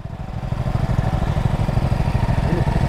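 Kuba Superlight motorcycle engine idling too fast, around 2,600–2,700 RPM, a steady close, loud rapid putter running evenly throughout with no one talking.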